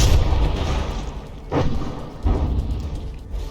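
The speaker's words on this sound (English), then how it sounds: "explosions everywhere and smoke" Explosions in a battleship battle in the game From the Depths: several muffled booms, with one sharp burst in the middle and another a moment later over a constant low rumble.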